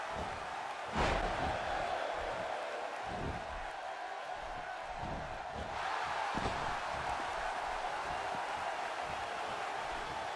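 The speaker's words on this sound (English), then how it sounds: "by the sound of this crowd, I think they're getting what they wanted" Crowd noise from the WWE 2K16 wrestling game, a steady broad roar of a large arena audience, fairly faint, with a couple of sharp slams cutting through.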